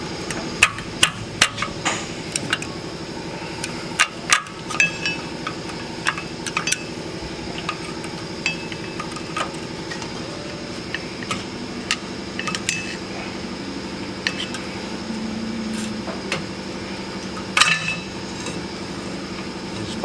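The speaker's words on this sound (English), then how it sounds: "Just take a screwdriver, tap it all the way down" A hammer taps a screwdriver down to pop the clip off a rear parking brake shoe, giving a scattered series of sharp metallic knocks, some close and loud, over a quiet workshop background.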